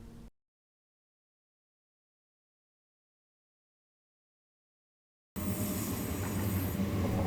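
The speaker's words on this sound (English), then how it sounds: "This is a special train that connects the Asian side with the European side of the city" Train linking the Asian and European sides of Istanbul, heard as a steady, loud rumble of rail cars in motion that begins abruptly after a long silent stretch.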